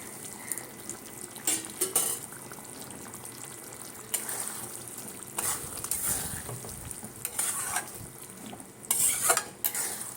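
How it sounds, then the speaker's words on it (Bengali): Mango pickle sizzles softly in hot oil over a medium gas flame, with faint frying crackle and intermittent stirring and scraping of a utensil against the pan. "তেলের মধ্যে আমটা ফুটছে, গ্যাস কিন্তু মিডিয়ামে আছে।"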